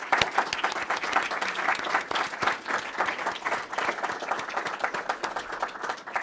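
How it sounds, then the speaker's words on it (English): An audience applauds at a conference on hostage diplomacy, sustained dense clapping from a room full of people. "I think they're worth a round of applause,"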